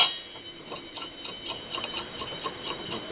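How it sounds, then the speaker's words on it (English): A 12mm bolt is tightened on a Land Rover Discovery 4 rear trailer hitch bracket, producing a quick, steady series of faint metallic ratcheting ticks in a quiet setting. "Install the other bolt."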